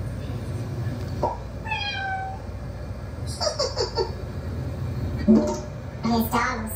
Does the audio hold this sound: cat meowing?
yes